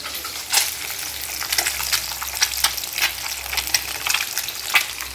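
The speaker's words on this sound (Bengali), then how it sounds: "এবার মাছটাকে আমি ভালো করে ফ্রাই করে নেব" Pieces of katla fish frying in hot oil in a pan, a continuous soft sizzle broken by repeated sharp crackling spits and stirring scrapes, close by and with no talk.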